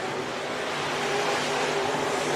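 SportMod race cars roaring around the dirt oval at Worthington Speedway, a steady loud blend of engines under power through the turns with no pauses.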